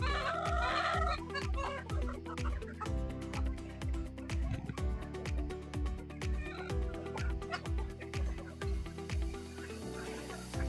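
Chickens cluck and peck at a poultry farm during feeding, with a rapid steady tapping of beaks on feed or a tray over a busy backdrop of clucking birds.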